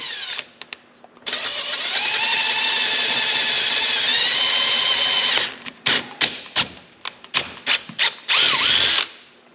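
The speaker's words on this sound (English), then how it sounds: "We're going to take our drill here, like I said, down in the bottom corner." A power drill whines steadily for several seconds boring a hole in a Yamaha YFZ-50 ATV for a light install, then stops, followed by a series of short bursts and clicks as the trigger is pulsed.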